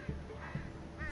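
Birds attacking in the game Unravel, two short raspy caws a half-second apart, then a warbling tone over a low game hum, fairly faint.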